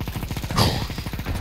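Rapid automatic gunfire in a video game, a dense rattling burst of evenly spaced shots running continuously, loud and close, with a sharper crack near the middle.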